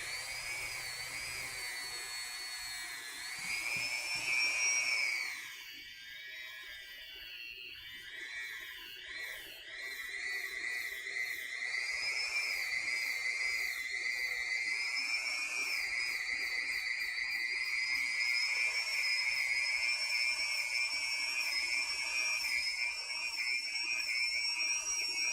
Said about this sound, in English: Let's sand this down.